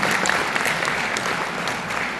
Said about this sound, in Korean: 이분들에게 박수 한번 보내주시기 바랍니다